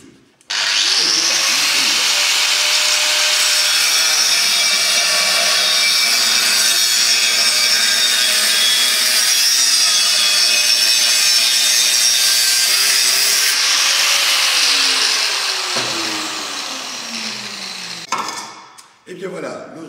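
An angle grinder cuts through a metal tube for table legs, a loud, steady high-pitched whine that runs continuously for about fifteen seconds, then winds down as the disc spins to a stop.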